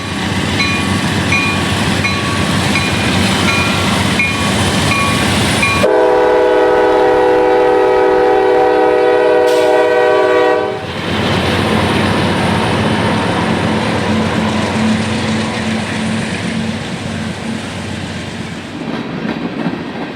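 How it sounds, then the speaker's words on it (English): GE Dash 8 freight locomotives CSX 7904 and 7882, one of them rebuilt, haul a CSX freight train away from a stop, with a loud sustained multi-tone horn blast between steady engine roar and rumbling, clattering railcars close by. "another M201 comes out of a stop for cross-traffic behind CSX 7904 and 7882"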